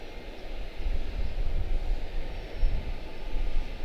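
Steady low rumble of a TWA-liveried airliner at Charlotte-Douglas International Airport, a continuous broadband jet engine roar at moderate distance with no voices.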